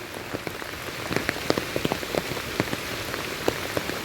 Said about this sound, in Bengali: কত বৃষ্টি হয়েছে বাড়ির ভেতর থেকে জলের স্রোত দেখো কিভাবে যাচ্ছে